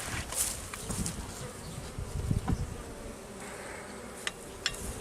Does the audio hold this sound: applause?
no